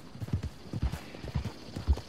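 Horse hooves galloping in Red Dead Redemption 2, a fast, steady rhythm of heavy thudding hoofbeats close by, running continuously with no voices over them.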